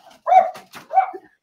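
Two short, close, loud dog barks or yips with a small whimpering tail, heard alone in a quiet indoor room.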